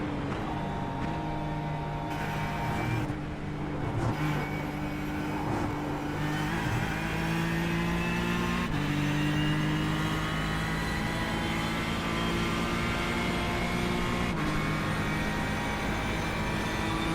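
A Porsche race car engine in a Daytona 24-hour racing game drones steadily at high revs, with several sharp gear shifts and pitch steps, loud and continuous with no talk.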